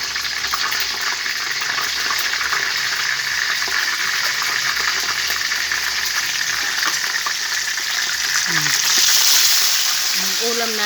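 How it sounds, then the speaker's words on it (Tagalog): Tilapia fries in hot oil with a loud, steady, dense sizzle throughout, and a brief muffled voice and light clatter come near the end. "Pipirito tayo ng isdang tilapia."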